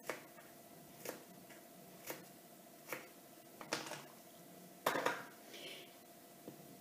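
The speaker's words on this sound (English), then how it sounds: "Next, I'm going to cut the apple and the melon into pieces and put it in my" A knife cutting apple and melon into pieces, with a steady series of crisp chops against a board at roughly one-second intervals, followed by a few closer, louder cuts in a quiet kitchen.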